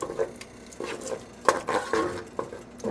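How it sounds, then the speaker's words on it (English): Biryani ingredients stirred in a pot with salt added, a spoon scraping and knocking against the metal in uneven close strokes, with soft sizzling underneath. "Stir."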